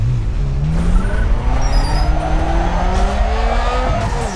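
A Mazda RX-7 in Need for Speed Underground 2 does a burnout: loud, sustained tire squeal over a roaring engine whose pitch climbs and shifts, continuous and close throughout.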